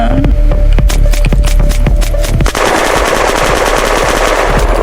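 Rapid automatic gunfire in the video game Unturned, loud and close, with bursts of sharp shots over a steady hum before the firing blurs into a continuous dense roar.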